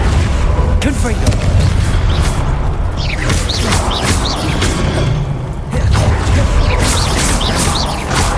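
Confringo spell blasts boom repeatedly in Hogwarts Legacy combat, loud crashing detonations packed tightly among dense spell effects with hardly a pause.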